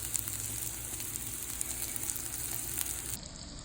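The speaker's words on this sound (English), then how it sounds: "After the curry powder and onions were all mixed together and sauteed to the right color of more brownish" Onions and curry powder sautéing in a pan for sweet potato soup give a steady, close sizzle with faint crackles and pops throughout, with no talking.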